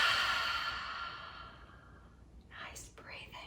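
A long, steady breath pushed out through the mouth to imitate ocean waves, close and airy, fading gradually before a few softer breathy sounds follow.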